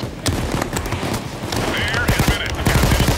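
Thompson submachine gun firing during a mall raid in Payday 2, with rapid dense bursts of gunfire and booms in a busy game mix, while a voice talks over it.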